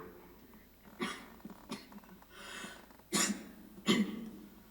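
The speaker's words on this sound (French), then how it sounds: "De temps en temps, elle retient une vilaine toux." Four or five harsh, breathy coughs spaced irregularly over quiet background noise, the last two louder and closer.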